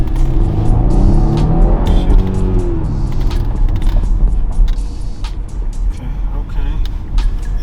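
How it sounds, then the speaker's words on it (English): A 2021 Porsche Cayenne with a non-turbo engine drives steadily, its loud, close engine drone and road rumble running continuously, with some creaks and a rising revving tone early on. "2021 Porsche Cayenne."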